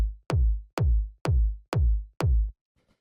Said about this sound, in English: the first sound I have here is the kick